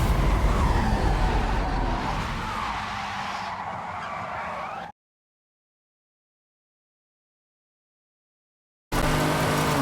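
Cars in a video game, a Ferrari and a chasing AMG GT, roar with engine noise and tire skids for several seconds. The sound cuts to dead silence, then resumes abruptly just as loud.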